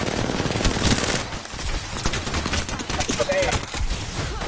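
Rapid automatic gunfire rattles loudly and continuously in an Apex Legends match, with dense bursts filling the clip while a player briefly speaks over it.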